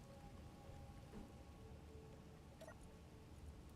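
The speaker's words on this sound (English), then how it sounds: "I hate this freaking rain." Soft, steady patter of rain on an alien planet in the Space Engineers survival game, a faint continuous hiss with a few scattered drip-like ticks.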